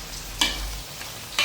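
Mutton fry is stirred and tossed in a hot pan after salt is added. A steady close sizzle carries scraping strokes of the spoon.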